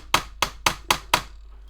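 A hammer tapping a part on a model VW T1 Samba campervan build, five evenly spaced sharp knocks, close and clear with no talk.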